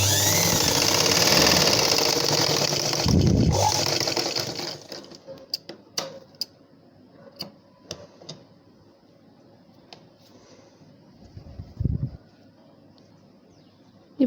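Sewing machine stitching a dart on a blouse, a loud rapid clatter for about four seconds that stops abruptly, followed by scattered sharp clicks, taps and handling noises in a quiet room.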